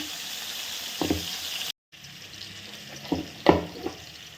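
Green chili, garlic and cumin seeds frying in hot oil, a low steady sizzle with a few brief stirring scrapes and a short break in the sound partway through.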